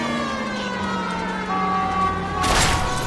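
Police car siren from the video game L.A. Noire, a steady wailing tone rising and sweeping across the clip, loud and close with engine and street noise beneath, swelling near the end.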